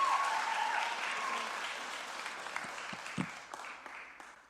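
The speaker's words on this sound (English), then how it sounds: "So can we give her a clap as she comes up?" A church audience claps for a young woman coming up to speak, a full burst of many hands that gradually thins and fades, with a few scattered claps and small knocks near the end.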